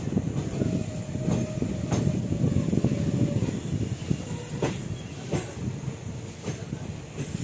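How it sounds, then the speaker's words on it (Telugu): A train rumbles steadily at Aurangabad railway station, with a continuous low roar, rhythmic wheel clacks at intervals and a faint hiss, heard alone at moderate loudness. "ఔరంగాబాద్ రైల్వే స్టేషన్ అనమాట."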